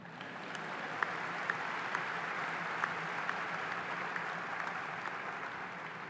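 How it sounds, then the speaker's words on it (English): Applause from the audience at a Towson University winter commencement ceremony, a broad, even roar of many hands in a large space, steady throughout with occasional distinct claps poking through. "You can clap."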